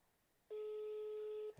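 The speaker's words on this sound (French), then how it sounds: "Elle est bizarre sa sonnerie là." A single steady telephone tone sounds for about a second during an unanswered call. It is a clean, continuous electronic pitch that starts and stops abruptly over quiet room background.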